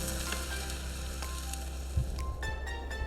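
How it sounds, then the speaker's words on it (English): Fish cooking in a smoker bag sizzles and fries steadily up close, a continuous crackle with small pops and a brief clatter near the end, with no voices. "We cooked the fish in a smoker bag that we had been carrying for over 2 years."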